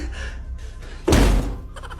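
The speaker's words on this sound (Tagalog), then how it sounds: "Baka kaya ko tumagos sa pintuan." A single loud, heavy thunk as a person bumps into a door while trying to pass through it, a short, sharp impact between quieter rustling moments.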